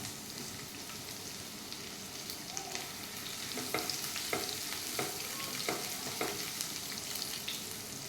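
Cumin, ginger, garlic and green chilli frying in a pan, a soft constant sizzle that turns into a few quick spoon scrapes midway, faint and close.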